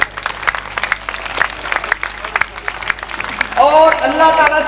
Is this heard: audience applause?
yes